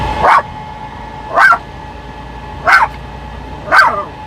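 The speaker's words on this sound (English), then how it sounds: "You sound like a little old girl barking." A dog barks four times in evenly spaced single barks, close and loud, heard from inside a big rig cab during a drive from Cheyenne, Wyoming to Fort Morgan, Colorado.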